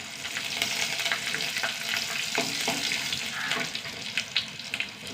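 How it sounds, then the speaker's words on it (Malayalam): Mustard seeds and dried red chillies crackle in hot oil, a steady dense sizzle with sharp little pops and spits scattered throughout, close and continuous. "കടുക് കൊട്ടട്ടെ വറ്റൽമുളക് കുറച്ച് വെക്കുക"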